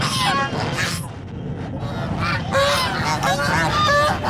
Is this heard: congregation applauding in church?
no